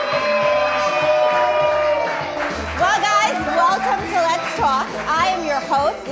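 Music fades out, then a talk-show studio audience erupts in loud cheering, whoops and shouts that carry on steadily under a lively crowd din.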